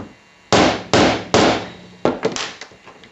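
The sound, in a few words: rubber mallet striking a non-leather wristband on a small anvil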